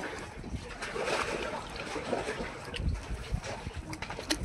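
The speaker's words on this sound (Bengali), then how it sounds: "দেখো বন্ধুরা নৌকাটা দুলছে" A small boat rocks on a river in the Sundarbans, its hull softly sloshing and knocking in gentle, uneven water movement, quiet and close with some wind.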